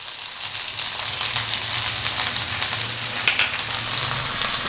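Steady sizzle and crackle of mutton curry masala with onions and coriander leaves sautéing in a pan, a continuous frying hiss with occasional faint stirring scrapes, close and moderately loud, with no talk.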